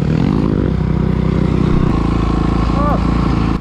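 A dirt bike roars past at a high school motocross race at Flat Rock, its engine loud and close with a rising then falling whine, heard under a rider's helmet-cam commentary.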